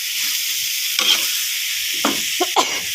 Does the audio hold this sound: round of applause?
no